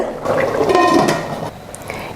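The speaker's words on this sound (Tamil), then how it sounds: "நல்லா கொதிக்குது" A pot of biryani water bubbles vigorously for a couple of seconds, a close, loud watery churning that eases off toward the end.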